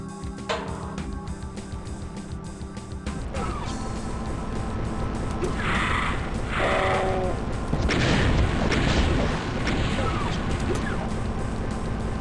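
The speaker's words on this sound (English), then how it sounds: "Naturally we use rockets in here." Rocket launcher explosions in a Doom custom WAD, several heavy booming blasts with crashing debris over an ongoing clatter of game sound effects, the loudest bursts landing in the second half.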